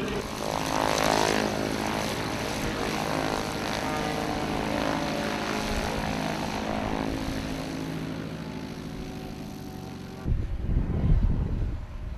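A propeller aerobatic plane flies over Ādaži airfield at its 10th anniversary air show, a loud, steady engine drone that holds for about ten seconds before giving way to a gusty, rumbling roar.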